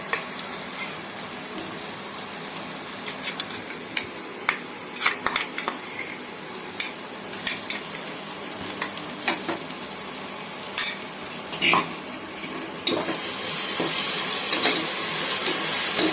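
Onion, tomato and ginger garlic paste sautéing in a pan for prawn biryani: a steady close sizzle with scattered clicks and scrapes of stirring, and the frying hiss swells louder near the end.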